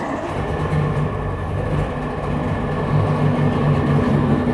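A 1999 Johnson 115hp long-shaft outboard motor with its VRO oil injection disconnected runs steadily, a loud, close, continuous low rumble with a faint tonal whine and no talking.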